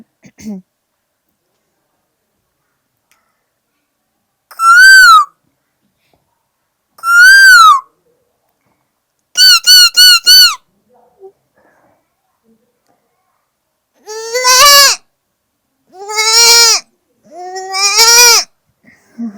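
A woman imitates cuckoo and goat calls with her voice, producing about seven separate loud, close bursts: sharp whistled cuckoo-like notes first, then a quick stuttering series and longer quavering bleats, with silence between.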